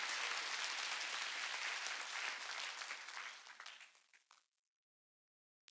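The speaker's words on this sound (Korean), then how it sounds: "박수로 하나님께 영광을" A church congregation at an outdoor mountain revival meeting applauding, a dense sustained clapping that thins into scattered claps and stops, leaving near silence.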